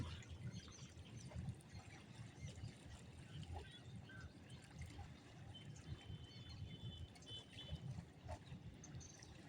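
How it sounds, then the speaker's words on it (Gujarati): Water flowing through the Mokeshwar dam canal, a faint, steady low rushing with soft gurgles heard from nearby outdoors, no one speaking. "વૈકન પાણીનો અવાજ કેવો આવે છે"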